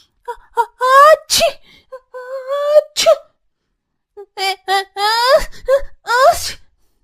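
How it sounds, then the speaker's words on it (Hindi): Two children sneeze repeatedly from the cold, several wet, breathy sneezes bursting out between whiny, moaning vocal sounds, close and loud, in two clusters separated by a short pause. "तभी दोनों बच्चे ठंड से छींकने लगते हैं।"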